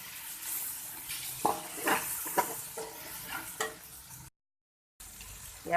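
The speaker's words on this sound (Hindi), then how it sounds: "अब हमने अच्छे तरीके से भून लिया।" Tomatoes frying in a pan for chicken pulao, stirred with a utensil: a soft background sizzle with several clear scraping knocks, then a brief silence near the end.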